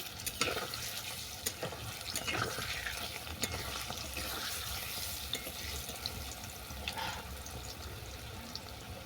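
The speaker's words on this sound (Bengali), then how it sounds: "এক পিট বাদামি করে ভাজা হয়ে গেছে অপর পিট উল্টে দিচ্ছি" Palm fruit masala fritters frying in hot oil, a steady quiet sizzle with occasional stirring and scraping clinks throughout, no talking.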